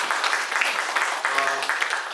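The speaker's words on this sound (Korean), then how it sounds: "다시 한번 박수 부탁드리겠습니다." An audience applauds at a community garden results-sharing gathering, a sustained patter of many hands clapping at moderate volume, with a voice speaking briefly over it.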